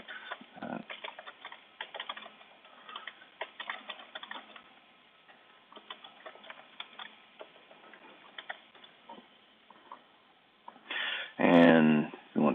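Quick, irregular clicks of a computer keyboard sound close up as text is typed, continuing steadily before a brief louder burst of other noise near the end.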